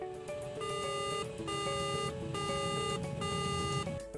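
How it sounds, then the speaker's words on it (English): A repeating electronic airplane cockpit alarm tone sounds in steady pulses, a bright layered beep cycling over and over against a low background hum. "there are also auditory alarms. They are activated for a variety of reasons on the cockpit"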